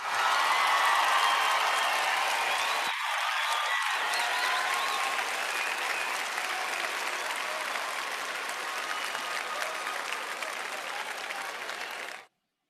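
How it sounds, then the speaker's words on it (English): Audience applause at the closing ceremony of a Model United Nations conference in Lagos, a steady, dense wash of clapping that fills the room and holds for about twelve seconds before stopping abruptly. "Now you're supposed to clap."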